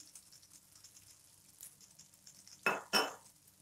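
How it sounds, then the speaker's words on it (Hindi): Vinegar and soy sauce mixed into baby potatoes, quiet rustling stirring that ends in two loud sharp clinks of a spoon against the pan or bowl, close up and with no talking. "और सबको अच्छे से मिक्स कर लेंगे।"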